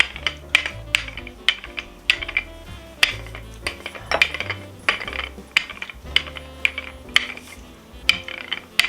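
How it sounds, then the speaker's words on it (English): Sugar cookie dough rolled out with a floured rolling pin, giving a steady run of close, crisp clacks and rattles as the pin rocks and rolls, with soft thuds beneath and no talking. "Have my rolling pin here, put a little flour on it, and we start to roll it out."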